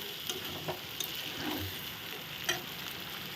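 Spices frying in a pan are stirred after a little water is added, giving a soft continuous sizzle with a few light scraping taps of the spoon against the pan.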